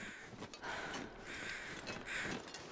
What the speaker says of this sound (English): I see some carrion crows, and I haven't been up here yet